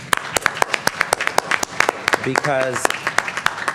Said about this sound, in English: if we can give Ms. Joanne and our team a round of applause